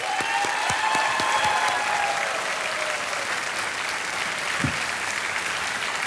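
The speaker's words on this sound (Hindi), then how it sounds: "तालियां बजती रहे बीनल के लिए" Sustained applause from a TV quiz show studio audience, steady and full for several seconds with scattered sharper claps, no voices over it.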